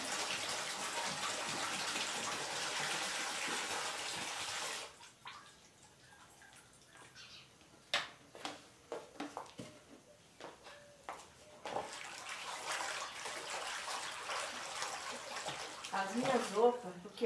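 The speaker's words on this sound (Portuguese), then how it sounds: "Agora eu vou pôr o álcool." Alcohol is poured while making homemade liquid soap, a steady liquid rush that stops, followed by scattered clinks and splashes and another pouring stretch, close and moderately loud.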